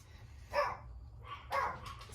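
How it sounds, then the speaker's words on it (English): Two short bursts of dog barking from more than one dog, fairly close and moderately loud, with a low household hum between them. "Sorry, my dogs are going crazy."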